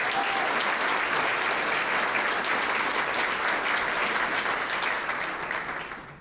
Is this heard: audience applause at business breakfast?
yes